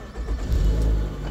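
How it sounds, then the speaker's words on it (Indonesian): A 2015 Nissan X-Trail SUV engine turns over and settles into a smooth, low idle, heard close up. "Suara mesinnya masih halus banget"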